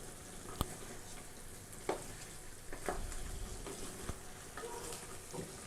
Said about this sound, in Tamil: இப்போ நம்ம இதை ஒரு வாட்டி நல்லா மிக்ஸ் பண்ணி விட்டுடலாம்.